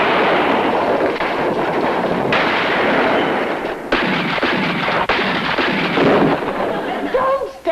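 Gunshots and chaotic blasts in a 1966 TV robbery scene, dense loud volleys filling the whole stretch with little pause.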